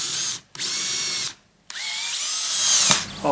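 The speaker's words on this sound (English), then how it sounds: "but you can just drill" A power drill whines through wood in three bursts, each steady and close, with short silent gaps between and rising strain on the last run while drilling holes for a children's carpentry necklace craft.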